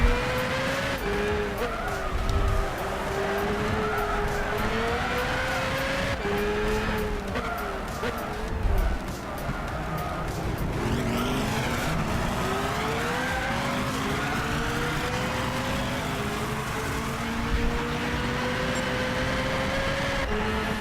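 Race cars battle through an overtake in Gran Turismo 6, engines droning and rising in pitch through gear changes with tire squeal and skids layered over a steady, loud in-game roar.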